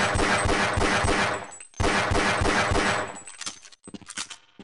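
Gunfire in the video game Half-Life, including pistol shots: loud, close, fast repeated shots fill two long bursts separated by a short gap, followed by a few scattered, fainter shots.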